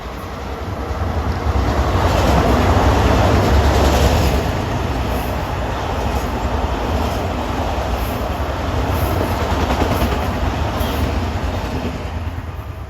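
A Long Island Rail Road commuter train runs past Westbury station on triple track during the evening rush, a loud, steady rumble and wheel roar that holds throughout at close range with no talk.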